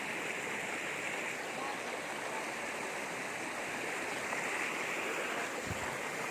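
A river in Tiaong, Quezon, flows over gravel and rocks in a steady, close hiss of rushing water that stays even throughout.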